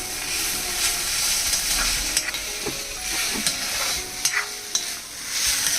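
Kebabs fry in a pan, with a continuous close sizzle broken by several scraping, clinking strokes of a spatula stirring and turning them.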